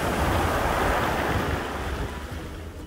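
Sea waves wash onto the pebbly shore of Dabab beach in Oman, a loud continuous surge mixed with wind noise that eases slightly toward the end, with no voices.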